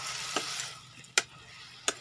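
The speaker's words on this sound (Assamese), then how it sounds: "দালিখিনি অকণমান ভাজি দিম," Lentils frying in a pan make a soft, steady sizzle, broken by three sharp scraping clicks as a spoon stirs them, close and quiet, with no voices.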